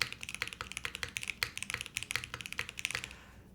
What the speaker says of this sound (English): the keyboard here really impacts the way that the spacebar sounds opposed to the switch